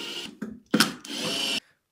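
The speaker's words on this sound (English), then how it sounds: "Okay, so let me pop all those screws off." A power screwdriver removes stainless steel screws from the cover plate of a wall-mount battery, heard as four close, short whirring bursts, the last one the longest.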